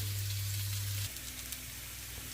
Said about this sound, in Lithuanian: Svogūnėliai truputėlį pakepė.